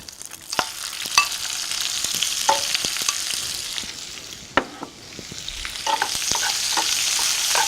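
Onions tipped into a pan of frying bacon hiss in a steady, loud sizzle, with sharp scrapes and clicks of a spoon stirring through them every second or so; a cabbage and bacon dish is under way.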